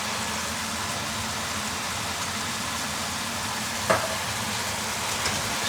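Food sizzles steadily in a frying pan as black pepper and Italian seasoning are stirred in for chicken lasagna, with a brief utensil scrape partway through.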